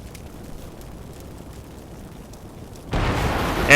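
Tank battle in a snowy video game setting: quiet ambient rumble gives way abruptly to a loud, broad burst of tank gunfire and explosion that sustains, then a further sharp blast at the very end.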